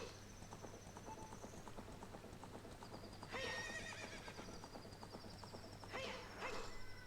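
Horse hooves clip-clop in a steady galloping rhythm, with two loud whinnies breaking through, over a constant low drone, in The Legend of Zelda: Ocarina of Time.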